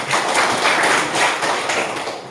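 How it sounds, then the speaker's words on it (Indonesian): A classroom of students clapping together in a dense, steady burst of applause that swells and fades slightly, close and fairly loud, with no talking over it. "berikan tepuk tangan dulu"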